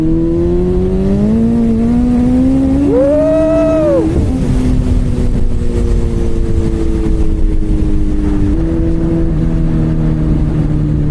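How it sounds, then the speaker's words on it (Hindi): A BMW S1000RR superbike engine rises to a sharp rev, then settles back to a steady high-pitched idle, loud and close with no talk. "बाइक की आवाज़ सबका रिएक्शन खींच ही लेती है।"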